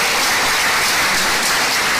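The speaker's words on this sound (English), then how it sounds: "Let's give him a big round of applause." Dense, steady applause from a large audience at a government committee inauguration ceremony, loud and continuous without any talk over it.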